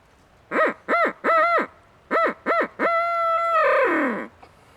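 Hand-blown owl call used as a turkey-hunting locator, sounding a rhythmic series of five close, loud hoots followed by a long drawn-out wavering hoot that trails off, imitating an owl.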